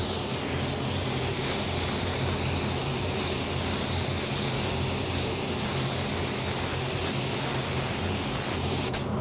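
A spray gun lays down a second coat of Createx AutoBorne sealer, giving a steady, loud, unbroken hiss that holds evenly throughout with no talk.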